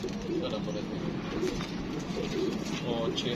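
Pigeons cooing in soft, repeated low calls close by, while someone talks over them.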